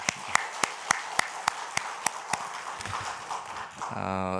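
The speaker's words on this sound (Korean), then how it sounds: "우리 격려의 박수 한번 하도록 하겠습니다." Scattered clapping of encouragement from a church congregation after a high school group's worship song at a special summer dawn prayer service. Sharp, evenly spaced claps ring out in a steady rhythm, then thin out as a sustained tone enters at the end.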